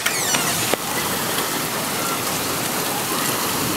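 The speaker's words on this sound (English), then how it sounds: "It's raining." Steady, dense rain pours down outdoors during a thunderstorm, a continuous hiss of drops on surfaces with one or two faint sharp ticks near the start and no voices.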